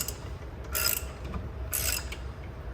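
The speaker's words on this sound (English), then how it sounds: "So we're gonna use our lug wrench and we're just gonna tighten it." A lug wrench tightening the lug nuts on a car tire gives two short, quiet metallic ratcheting bursts about a second apart over a low background hum.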